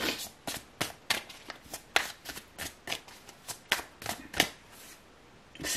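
Tarot cards are shuffled by hand in a quiet room, producing a rapid series of crisp riffling bursts and soft slaps, close and irregular, with no talking.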